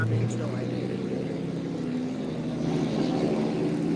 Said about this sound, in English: I hope the buses and cars that's driving by isn't too loud